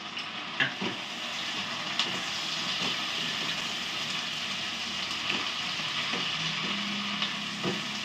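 Spice paste with salt sizzling and crackling in hot oil in a wok while fish curry is cooked at home, a steady soft hiss with occasional pops and stirring clinks.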